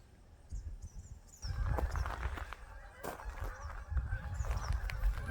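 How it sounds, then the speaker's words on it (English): Canada geese honk in scattered calls over a steady low rumble of wind and movement in a wetland, the honking faint to moderate and coming from a distance. "There we go, some of our Canada geese."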